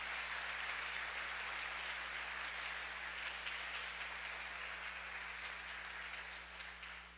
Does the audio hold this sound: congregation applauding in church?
yes